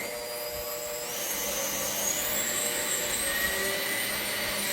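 A restored 60-year-old KitchenAid stand mixer runs steadily with a constant whirring motor whine and a high gear hum, close and loud, with no one speaking.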